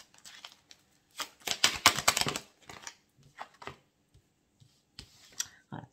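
Oracle cards drawn one at a time during a tarot-style reading, giving brisk papery flicks, taps and shuffling rustles in irregular bursts, louder in the first half and sparser toward the end, with no talk.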